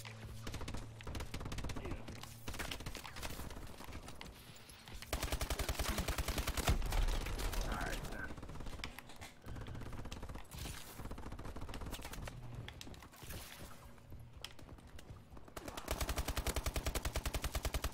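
Bursts of automatic gunfire on a multiplayer shooter map, rapid rattling volleys at close and middle distance that come and go in waves among game effects.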